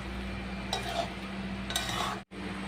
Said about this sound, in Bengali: এবার ভালো করে নেড়ে চেড়ে দিতে হবে আবারও।